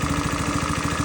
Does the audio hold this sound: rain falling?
no